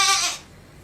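A child imitates a goat's bleat with one short, quavering, nasal cry that cuts off sharply and leaves quiet room noise.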